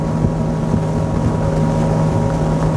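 An XO 260 DSCVR motorboat carves a turn at about 33 knots: a loud, steady engine roar mixed with rushing water and wind buffeting, constant and close throughout with no talking.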